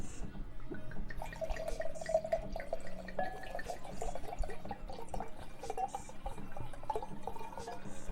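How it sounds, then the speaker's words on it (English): Purple Toad caramel apple wine is poured into a glass, giving a quiet, steady trickle with scattered drips and small splashes that last several seconds, with no voices. "I'll show you how I pour my wine."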